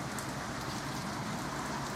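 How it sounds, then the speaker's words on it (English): Rain falls in a dense, steady hiss outdoors, a continuous wash with no distinct passing car splashes standing out, fairly quiet and even throughout. "The cars are splashing past in the rain"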